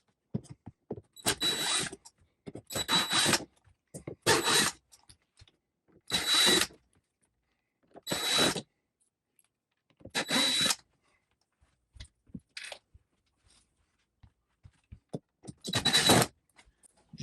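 A power drill backs out seven screws from an RV air dump cover in a Grand Design Solitude 382WB-R, with short whirring bursts repeated at intervals, separated by quiet pauses; no talking.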